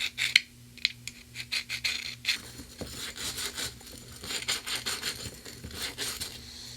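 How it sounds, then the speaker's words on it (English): Small screwdriver scraping stuck-on deposits off a Tecumseh 5hp snowblower carburetor: rapid, irregular scratchy strokes, close and quiet, with a faint steady hum in the background. "what I like to do is just take my little screwdriver and just go over it."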